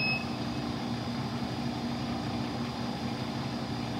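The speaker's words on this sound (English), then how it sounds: "The machine will beep" A Selmi chocolate tempering machine gives one short electronic beep right at the start. A steady mechanical hum continues underneath.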